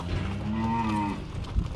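Cattle moo once in a long, drawn-out call while being herded into a pen for weighing on a farm, near and clear, followed by a short thump.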